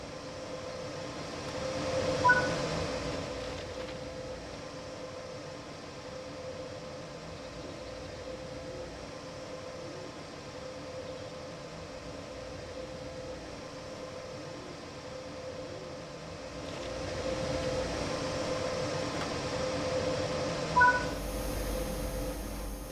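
BR 185.2 electric locomotive in Train Sim World on the Kassel–Würzburg high-speed line, a steady rolling rail rumble with electric whine that swells near the start and again toward the end, with a couple of brief clanks.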